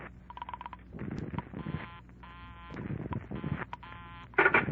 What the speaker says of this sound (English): When she was through dialing, I held off dialing the last number on my phone until she got an answer